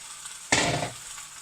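Tomatoes drop into a hot pan of chicken curry, setting off a sudden bright sizzle that flares loudly, hisses for under half a second, then fades back to a quiet background simmer.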